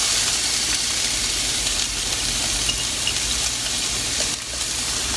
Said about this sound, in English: The pan is nice and hot. I added the olive oil.